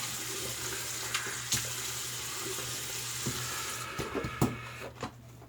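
Tap water running into a sink for a warm and cool rinse during a wet shave, a steady soft faucet flow with small splashes and clinks, fairly quiet and close, no talking.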